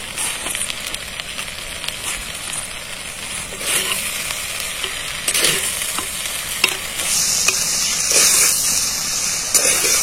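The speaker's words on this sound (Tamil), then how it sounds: "வெண்டைக்காய் நல்லா ஃப்ரை ஆயிடுச்சு" Okra (ladies finger) fries in a pan with a steady, bright sizzle. Scraping stir strokes come through at intervals, and the hiss grows louder toward the end.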